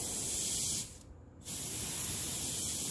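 A vintage airbrush sprays paint with a close, steady hiss that breaks off briefly near the middle and then resumes just as strongly.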